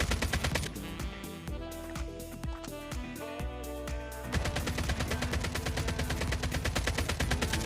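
ASM-10 assault rifle fire from Call of Duty Mobile: loud, rapid automatic bursts, first choppy and layered with heavy booms, then a steady fast stream of shots to the end, with no talking.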